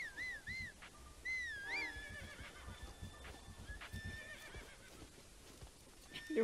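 Horse in Zelda: Breath of the Wild, giving several wavering whinnies and neighs over soft clip-clopping hooves, faint and game-mixed, with a quieter whistle-like tone later.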